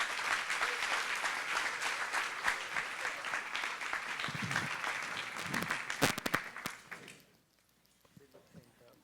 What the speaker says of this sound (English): Give them a round of applause as they come up on stage